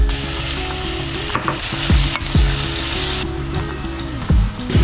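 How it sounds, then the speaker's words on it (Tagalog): Garlic and tomato sizzle in hot oil while being sautéed for a Filipino squid dish, a loud continuous frying hiss with repeated spatula scrapes and stirring clatter against the pan. "magluluto na ako ng ginisang pusit."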